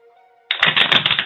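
Oracle cards being shuffled during a reading: a sudden burst of dense, rapid riffling begins partway through after a quiet lead-in, loud and close, with a fluttering rhythm that holds steady to the end.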